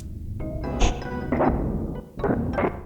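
A choppy rhythmic loop of short percussive hits and clipped fragments, stuttering in uneven bursts with brief gaps between them.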